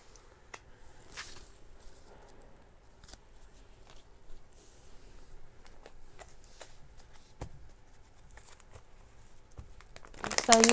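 Tarot cards are shuffled by hand to make one pop out, producing quiet, scattered snaps, riffles and papery crinkles at close range, with a louder rustle at the very end.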